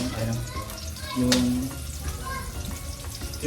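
Sliced onion sizzling in a hot pan while sinigang sa miso is being cooked, giving a steady, close frying hiss with light stirring and faint clinks over the whole stretch.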